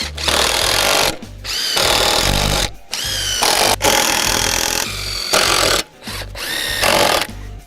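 Power drill driving screws into wooden bench brackets during a DIY gym bench build: loud whirring bursts, each lasting about a second, separated by short pauses, close by.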